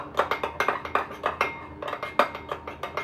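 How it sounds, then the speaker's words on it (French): A spoon scrapes and clinks against a bowl in quick, regular strokes while mixing a cream of coffee grounds and olive oil, close and fairly loud, with no voices. "on va mettre une petite cuillère à soupe d'huile d'olive et on mélange tout ça"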